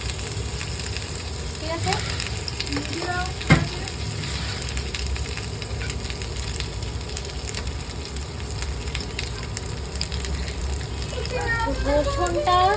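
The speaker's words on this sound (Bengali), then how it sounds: "এই আদা রসুনটা দিয়ে দিলাম" Ginger and garlic frying in a hot pan, a loud continuous sizzle and spatter with scattered crackles, heard close up while a person speaks briefly over it.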